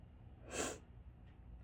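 A single short, sharp sniff taken close up during a quiet moment while nail tips are being applied, with faint background hiss around it.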